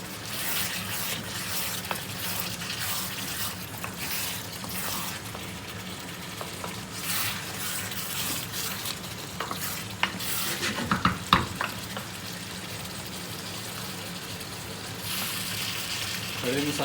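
Chicken biryani masala with whole spices such as star anise, cinnamon, black cardamom, black pepper, black cumin and cloves fries in a pot, giving a continuous loud sizzle with steady stirring scrapes and a brief burst of clatter.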